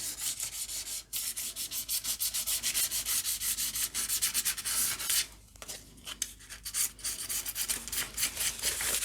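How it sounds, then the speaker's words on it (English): Sandpaper scrubs across a slick-finished frame to roughen it, a continuous close, loud rasping rub with quick back-and-forth strokes and a few short pauses. "bit of sandpaper here, and because this is it's quite a slick finish, just want to roughen that up a little bit"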